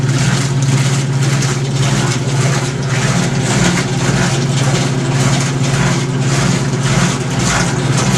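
Maytag E2L wringer washer rinsing clothes: a steady, loud motor hum with a rhythmic, pulsing churn of agitated water, continuous throughout with no speech.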